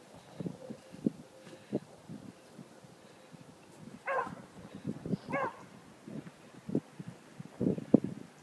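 Hunting dogs, including a young red tick hound, bay and bark repeatedly while chasing rabbits outdoors, the calls coming from a moderate distance in irregular bursts over light wind.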